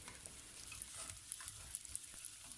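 Lentils, bulgur and rice dry-roasting in a pan for a Turkish ezogelin soup, giving a faint, steady crackling sizzle with light patter and soft stirring scrapes throughout, no voices.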